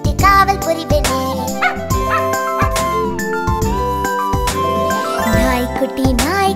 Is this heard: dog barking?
yes